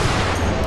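Gunfire in the video game Sniper Elite V2, a brief dense burst of shots filling the short clip at steady loudness, no voices.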